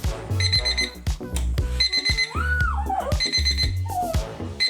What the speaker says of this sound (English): The Ruggy's the size of a bath mat with different alarms and volume levels.